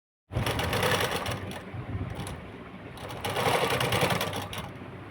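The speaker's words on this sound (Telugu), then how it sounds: "ముందుగా కుచ్చు పెట్టేటప్పుడు కదలకూడదంటే ఇలా ఒకసారి మొత్తం స్ట్రైట్గా కుట్టు" A sewing machine runs a straight stitch along gathered fabric, a loud, fast, steady mechanical whir with brief slowdowns, close by and without talk.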